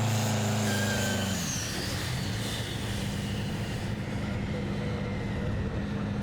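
Peterbilt-based pulling tractor at a tractor pull: a loud engine holding steady tones, then dropping sharply in pitch and breaking into a rough, rumbling roar that carries on continuously.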